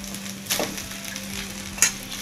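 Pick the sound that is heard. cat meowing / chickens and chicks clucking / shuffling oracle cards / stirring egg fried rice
stirring egg fried rice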